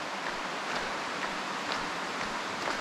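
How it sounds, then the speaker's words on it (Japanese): Continuous soft rushing of a babbling stream beneath a bridge near Nasu Onsen, Japan, steady and moderately distant, with faint bright trickles; no talking. "なんだか川のせせらぎの音がしてきたね"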